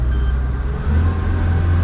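A Yamaha F90 outboard on a Hewescraft 180 Sportsman boat revving up, a low motor hum that swells and deepens partway through, close and steady, with no voices.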